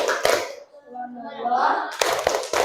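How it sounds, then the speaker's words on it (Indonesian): Classroom children doing the "tepuk hebat" clapping chant, sharp bursts of hand claps at the start and end with a chanted, sing-song group of young voices in between. "Tepuk hebat"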